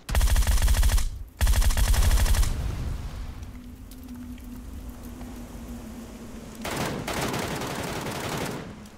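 Loud rapid bursts of automatic gunfire from the battle royale game PUBG Lite, two dense volleys at the start, then a quieter stretch of engine hum and another burst near the end.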